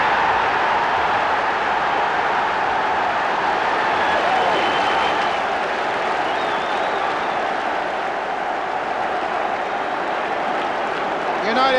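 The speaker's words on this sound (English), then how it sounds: "United fans applauding a splendid strike from the little Scottish full-back Arthur Albiston" Football crowd at a Manchester United match applauding a goal, a right-foot strike by Scottish full-back Arthur Albiston; sustained broad clapping and crowd noise fill the stadium throughout, steady and loud, with a commentator's voice running over it.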